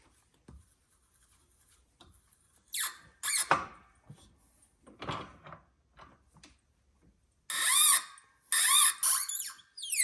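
A tap squeaks as it threads a deep hole in free-machining brass: scattered short squeals at first, then two longer, loud, high-pitched squealing bursts near the end, with no talking.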